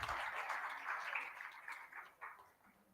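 Applause for a panel delegate at a panel discussion, a short burst of many people clapping, heard faintly from a distance and trailing off after a few seconds.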